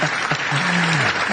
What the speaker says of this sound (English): please join me in a warm round of applause for Lieutenant Colonel retired James Tucker.